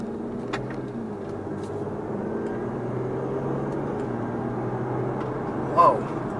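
A supercharged 2017 Audi A7 S Line engine hums steadily and builds slightly in pitch as it accelerates, with a low rumble throughout.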